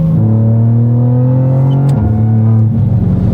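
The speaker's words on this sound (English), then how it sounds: "Yeah, it's on the rumble strips." A BMW M2 CS on the Nordschleife circuit rolls over rumble strips, its engine droning loud and close with a steady pitch that steps down mid-clip as it shifts, the strip texture buzzing underneath.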